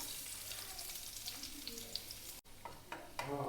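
Small onions fry in ghee with a low, steady sizzle and a few soft pops, close and fairly quiet; a sharp clack of a utensil breaks in midway.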